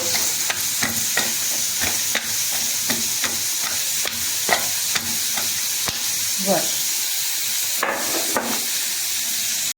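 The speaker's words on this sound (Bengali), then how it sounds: "হলুদ দিয়ে চিংড়ি মাছটা তেল দিয়ে ভেজে নেব" Shrimp coated in turmeric fry in hot oil with a constant close sizzle, punctuated by frequent sharp scrapes and clacks of a spatula stirring the pan.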